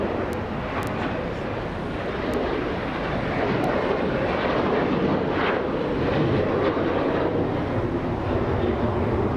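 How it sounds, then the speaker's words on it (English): A Delta airliner taking off at Los Angeles International Airport, a steady broadband jet roar that holds loud and close for the whole stretch, swelling slightly midway, with no voices. "Spirit Wings versus Delta, back-to-back takeoffs"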